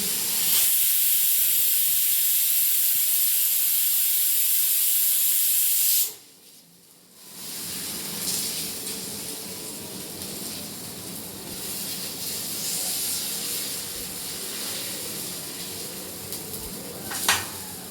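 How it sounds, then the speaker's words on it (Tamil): Thick dosa batter poured onto a hot pan, starting as a loud, bright hiss that cuts off abruptly, then returns as a softer, steady sizzle that continues to the end. "அதனால என்ன பண்ண போறேன்னா தோசை கொஞ்சம் திக்காக ஊற்றுறேன்."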